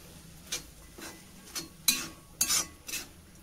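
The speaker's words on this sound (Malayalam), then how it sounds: "ഇനി നല്ലപോലെ ഇളക്കി കൊടുക്കാം" A spoon stirs banana flower and horse gram thoran in a pan, giving about six separate scraping strokes in an uneven rhythm, each one short and crisp, with a light tap against the pan.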